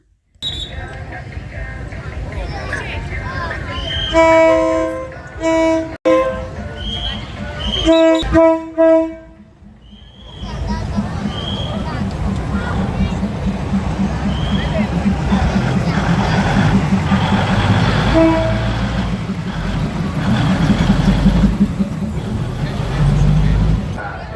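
A train horn blares in repeated blasts, then a heavy train rumbles and clatters past close by for a long stretch through the Maeklong market in Thailand, with voices nearby.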